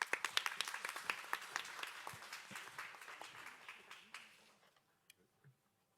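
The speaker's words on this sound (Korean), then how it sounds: "발제를 박수로 맞이해 주십시오." Audience applause at a tech conference session on the metaverse and NFTs, a dense burst of clapping that thins out and fades over several seconds, ending in a few scattered claps.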